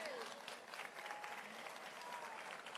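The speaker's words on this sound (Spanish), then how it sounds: "Creo que también se merecen un fuerte aplauso" Crowd applause at an outdoor Christmas celebration in Asunción, Paraguay, steady, dense clapping holding at an even level throughout, with no talk over it.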